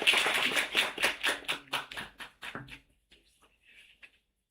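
An audience applauds a professor coming on stage, a burst of hand clapping in rhythmic bunches that thins and fades out after about three seconds, leaving only faint scattered sounds.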